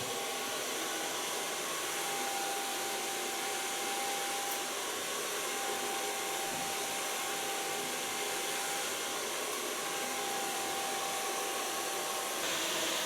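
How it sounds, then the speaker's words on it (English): A hair dryer blows hair straight with a large round brush during a haircut, a steady, close, constant whoosh with a faint whine that holds unbroken for the whole stretch, with no talking. "Gonna start in the front, blow drying it straight out."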